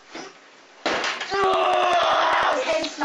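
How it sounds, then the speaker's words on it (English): A head banging against a front door makes a quick series of repeated hard thuds, loud and close, with people talking and shouting over them. "He's smashing his head in the front door."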